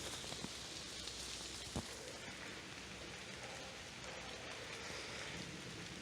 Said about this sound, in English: get back to the house because it is raining and we are moist.